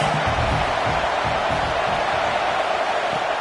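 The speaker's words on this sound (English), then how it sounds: "This crowd trying to make life miserable for this offense." A stadium crowd at a football game roars in a dense, steady wash of noise, distant and continuous with no distinct cheers standing out.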